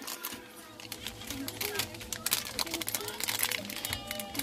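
Plastic packaging on a child's toy ball crinkles and crackles close by as someone tries to open it, with soft talk underneath.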